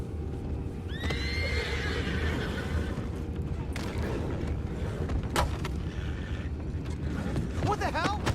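Horses in Red Dead Redemption 2 whinny twice, a clear rising neigh near the start and another shrill call near the end, set over a steady low rumble of wind and ambient noise.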